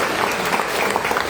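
Congregation in a church clapping together after a prayer, a dense burst of applause filling the room, loud and close.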